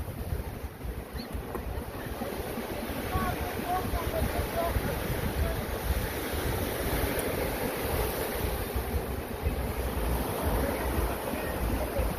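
Ocean waves and wind on a beach whose sand has washed away, facing open ocean: a continuous, fairly loud wash of surf with gusty wind buffeting the microphone throughout.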